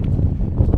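Gusty wind buffets the microphone at an exposed hillside wild camp on a windy Halloween evening, a brief, continuous low roar with no distinct gusts standing out.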